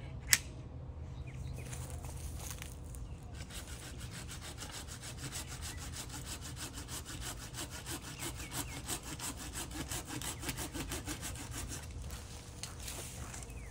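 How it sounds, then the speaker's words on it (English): A pruning saw cuts through low branches of a dying citrus tree outdoors, a close, continuous rhythmic rasp of back-and-forth strokes that runs steadily for the whole stretch. "I'm gonna take this pruning saw and I'm gonna start pruning off some of these branches down here at the bottom"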